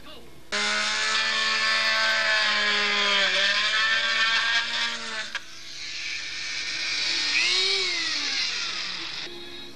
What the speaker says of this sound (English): I got a long drill so I can run this right through the motor itself without a problem.